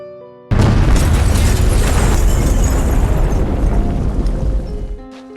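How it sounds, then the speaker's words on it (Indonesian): A sudden, loud blast from a bomb planted in a hotel erupts after a brief quiet moment, followed by a long roaring rumble that slowly fades over several seconds. "bom yang dipasang di hotel tersebut langsung meledak"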